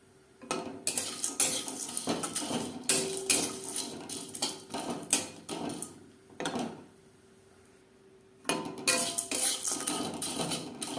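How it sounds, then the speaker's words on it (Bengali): Cumin seeds being stirred in a hot kadai (wok) over a low flame, with repeated metallic scraping and clinking of a spatula against the pan in rhythmic bursts, with a short pause before stirring resumes. "এইভাবে লো ফ্লেমে 4-5 মিনিট নাড়াচাড়া করে নেব"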